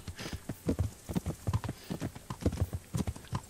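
Horses ridden side by side in the video game Kingdom Come: Deliverance, a steady rhythmic clip-clop of hooves at a walking pace, fairly quiet and close, with no talk.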